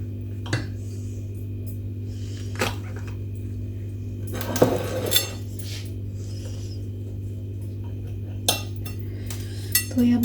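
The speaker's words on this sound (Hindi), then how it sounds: "उसके बाद हम इसको 4 पीसेस में काट लेंगे" Flatbread roti cut into four pieces: scattered sharp knife taps and scraping on a board, close, with a steady low hum underneath and a louder burst of cutting in the middle.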